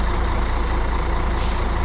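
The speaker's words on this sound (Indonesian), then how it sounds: "Aduh, kenapa ada truk besar di sini, guys?" A large truck idles in a traffic jam on a mountain road in Euro Truck Simulator 2, its low engine rumble steady throughout before a short hiss of air brakes releases near the end.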